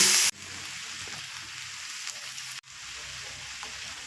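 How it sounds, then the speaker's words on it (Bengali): Rice for biryani fries in a pot, giving a steady soft sizzle with faint scraping stirs, broken by a brief gap partway through. "তিন থেকে চার মিনিট আমি চালগুলো খুব সুন্দর করে কষিয়ে নিয়েছি"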